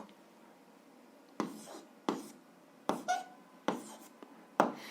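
Pen writing down an algebra answer on paper in a quiet room, heard as five short, close scratching strokes spaced about a second apart.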